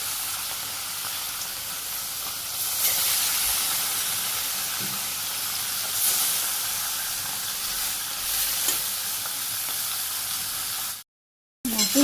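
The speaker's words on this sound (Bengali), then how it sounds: "তো প্রথম বাজির মাছগুলো ভেজে নিই" Small fish fry in hot oil in a Bangladeshi village kitchen with a loud, steady hiss and sizzle. Faint scrapes and stirring are heard before a short silent break near the end.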